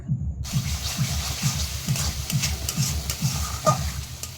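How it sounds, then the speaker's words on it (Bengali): Spice masala of salt, turmeric, chilli powder and cumin powder being stirred and sautéed in a pan for a Bengali potoler dhokar dalna, with a steady rhythmic scraping roughly twice a second over a soft sizzle, close by. "এবার ভালো করে নেড়ে চেড়ে কষিয়ে নেব মশলাটা"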